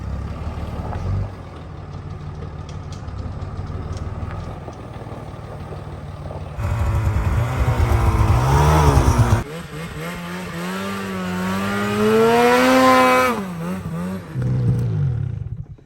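A stuck truck's engine revving hard in low snow, with repeated rising and falling surges of a loud, close motor, straining whines climbing in pitch between rougher idling stretches.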